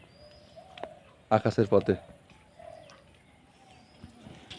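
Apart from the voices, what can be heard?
pigeons cooing at a rooftop pigeon house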